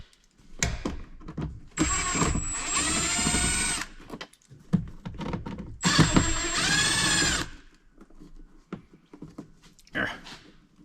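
Phillips screws driven by a cordless Phillips Zinger power screwdriver, two sustained whirring runs of roughly two seconds each separated by clicks and handling knocks, with a short buzz near the end.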